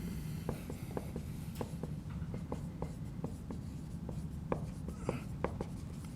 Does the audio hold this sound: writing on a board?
yes